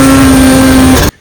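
A Polaris Axys 800 RMK snowmobile engine winds up at high RPM, loud, close and steady with a strong whining tone, then cuts off abruptly after about a second.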